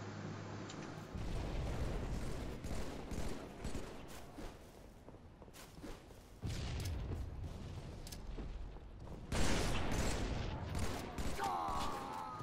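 Gunfire in the first-person shooter Halo 3 during online multiplayer, with bursts of rifle shots and blasts recurring across the clip, fairly loud with dense overlapping rounds and a louder burst near the end.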